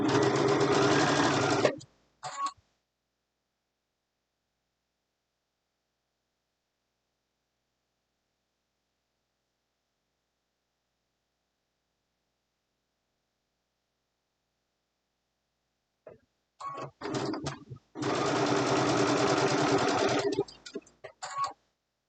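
A sewing machine stitches a fabric seam allowance in two bursts of fast, even mechanical whirring, one at the start and one near the end, separated by a long silence.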